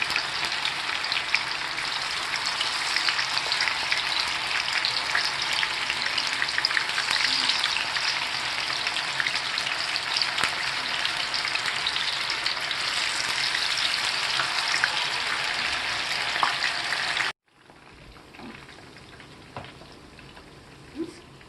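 Soya manchurian balls deep-frying in hot oil, giving a dense, continuous bubbling hiss like heavy rain, close and steady for about seventeen seconds before it cuts to a much quieter sizzle with faint occasional clicks.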